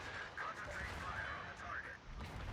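Secondary guns on a warship firing in a naval battle video game, a dense run of booming shots under steady rumbling battle noise.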